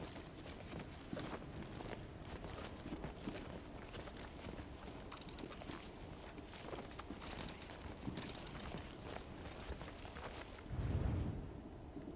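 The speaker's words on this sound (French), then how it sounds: "les bruits de pas dans la neige, c'est vraiment tout ce qu'il faut entendre" Steady footsteps crunch through snow on a mountain outing, continuous close-up walking with faint wind and a low thump near the end.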